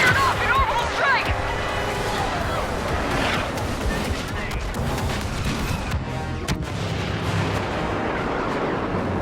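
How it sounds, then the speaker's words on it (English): Heavy booms and rumbling blasts from an orbital strike roll through a Star Wars Battlefront Walker Assault battle on Hoth, mixed with game voices and other combat noise throughout. "They fired off an orbital strike!"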